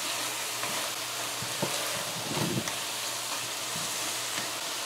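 Eggplant (baigan) fries steadily in a pan, a continuous close sizzle and hiss with a few soft pops and stirring scrapes, heard alone.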